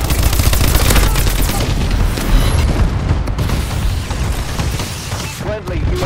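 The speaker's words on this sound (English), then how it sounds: "Friendly bombing run incoming." Loud, sustained barrage of explosions and rattling gunfire from a video game bombing run, rumbling deep and close for several seconds while a voice speaks over the chaos.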